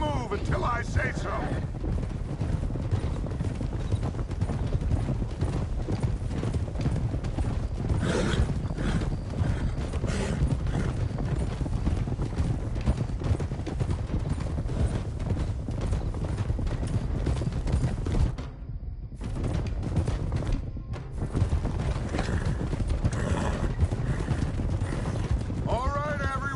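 Horses clip-clop in Red Dead Redemption 2, a steady, dense run of hoofbeats heard up close with tack creaking, and game characters speak over it.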